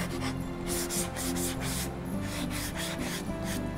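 Steady, close rubbing scrapes as a painted wooden Christmas craft piece is sanded by hand, repeated back-and-forth strokes in a fairly loud, even rhythm with no speech.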